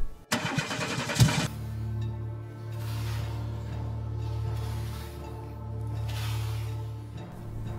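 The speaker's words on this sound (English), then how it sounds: "I'm gonna try to turn on the car," A car engine is cranked and catches at night on a dark roadside. A short burst of starter whirring and sputter is followed by a steady, close, mid-pitched idle rumble.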